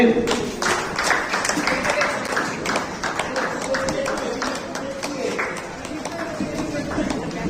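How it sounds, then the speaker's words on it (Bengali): Loud applause from an audience at a Howrah Rotary Club felicitation for the outgoing president, steady dense clapping filling the whole stretch with voices mixed in. "জোরে হাত তালি"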